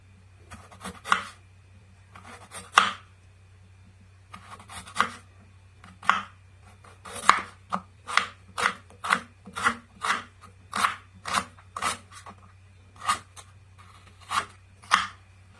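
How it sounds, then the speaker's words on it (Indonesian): A knife thinly slicing potatoes on a board for a potato omelette, with about twenty crisp, evenly paced chopping strokes in a steady rhythm. The cuts are close and clear over a low, steady background hum, and no one speaks. "sekarang kita potong kentangnya tipis-tipis ya"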